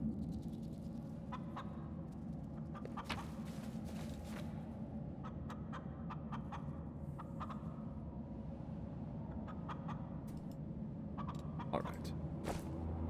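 A chicken clucks in the fantasy role-playing game Pathfinder: Wrath of the Righteous, with short repeated clucks over steady game ambience while someone talks throughout.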